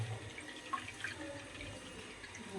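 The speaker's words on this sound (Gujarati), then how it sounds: "ધીમે ધીમે આવતું હતું નળનું પાણી" Steady rush of tap water running, a continuous broadband splash at moderate level, alone without voices.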